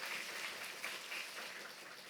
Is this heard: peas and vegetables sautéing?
no